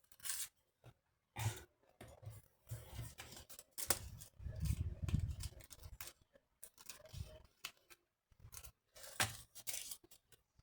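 Scissors snip through paper or card in a run of short, crisp cuts with brief pauses between them, fairly close and clear, with no talking over them.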